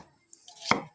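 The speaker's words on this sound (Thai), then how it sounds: "ซอยกระเทียมนี่" A single knife stroke slicing garlic on a board, one crisp chop near the end of a short, otherwise quiet moment, close and fairly loud.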